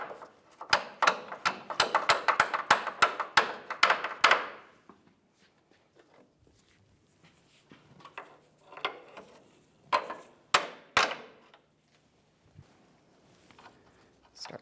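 A control arm mounting bolt is tapped into its bracket on a Chevrolet truck front suspension: a rapid burst of sharp metallic taps for about four seconds, then a quiet pause and a few scattered knocks and clinks of parts being handled.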